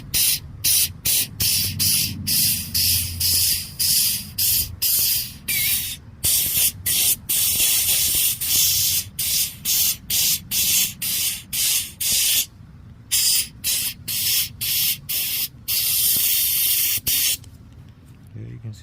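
Compressed air hisses in rapid repeated bursts into a stuck brake caliper, loud and close, each blast separated by short gaps, with a voice occasionally underneath.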